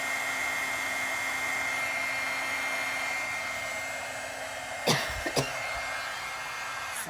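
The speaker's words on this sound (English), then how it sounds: "I know the coughing doesn't sound great" Two short coughs close together break through a steady loud blowing hum, like a hair dryer running nearby the whole time.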